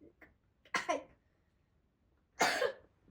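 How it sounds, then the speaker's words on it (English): A person who is still sick coughs twice, a short rough burst followed after a pause by a louder, longer cough, close to the microphone with no talking. "I'm sorry for the cough"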